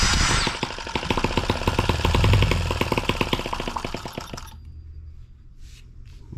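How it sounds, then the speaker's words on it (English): A drill driver spins over a small m17b model engine fitted with a carburetor, giving a loud, close mechanical whir with rapid ticking pulses that fades and stops, leaving faint scattered noise. "let's grab that drill driver. We'll spin it over and see if we can clear it out"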